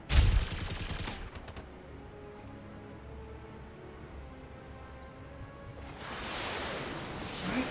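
In the Battletech game, turrets fire at a mech. A sharp loud blast opens a short rattle of shots, then a low rumbling lull and a rising rushing burst near the end.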